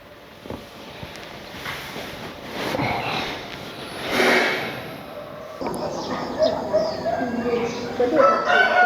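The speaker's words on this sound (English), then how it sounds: "The rooster's crow mingled with the cheerful songs of birds among the leafy green trees" A rooster crows in the distance amid outdoor farm ambience, followed by clucking and songbird calls from leafy trees as the background grows busier.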